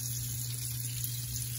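Cold water running steadily from a tap during a shave, a continuous even hiss of flowing water under a low steady hum, with no talking.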